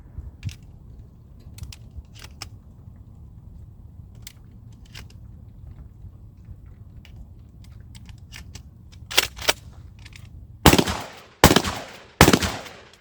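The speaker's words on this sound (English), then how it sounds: "we're going to just throw some rounds through it and see how it cycles in this Mossberg 500" Shotgun fire from a Mossberg 500 as rounds are cycled through it: quiet clicks and handling at first, then several sharp, loud blasts spaced about a second apart near the end.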